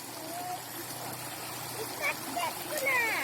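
Stream water flows outdoors in a steady, soft rushing wash, with faint high chirps or calls scattered over it.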